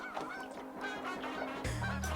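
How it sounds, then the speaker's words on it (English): Several geese honk repeatedly and loudly, overlapping calls forming a noisy chorus, with a deeper burst near the end. "I've never seen so many geese."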